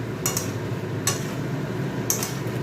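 A prawn, potato and cauliflower curry is stirred in a pan over a low, steady cooking hiss, with three distinct close scrapes or clinks of the spoon spaced about a second apart.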